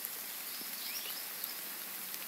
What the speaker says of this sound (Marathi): आणि भरभर पाऊस पडतोय.